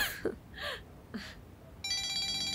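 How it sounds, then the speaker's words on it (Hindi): A mobile phone's ringtone for an incoming call starts up near the end, a bright repeating tone at close range, following a few brief voice sounds. "दुआ की सास का फोन आ रहा है, मरियम साहिबा का।"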